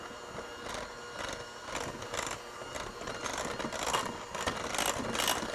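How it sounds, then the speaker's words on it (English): An electric mixer whirs steadily on low while whipping cream with confectioner's sugar for a dessert, a continuous mechanical hum with faint rhythmic clatter and no talk over it. "Now we're gonna turn our mixer on low and add in 2 tablespoons of confectioner sugar."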